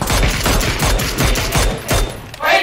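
Gunfire in PUBG, a loud rapid burst of repeated shots in quick succession, close and dense, with no speech over it.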